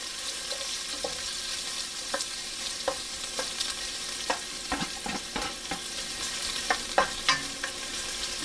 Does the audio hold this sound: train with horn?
no